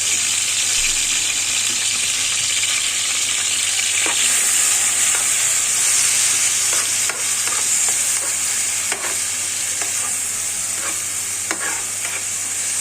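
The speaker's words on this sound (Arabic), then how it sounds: "هننزل بالبصل يتحمر بس كده" Onions frying in a pan, a loud, continuous sizzle with occasional sharp clicks and scrapes from stirring throughout.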